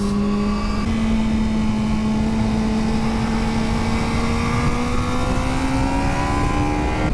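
Yamaha R7 motorcycle engine revs hard in a loud, continuous tone whose pitch climbs steadily throughout, heard close with no voices.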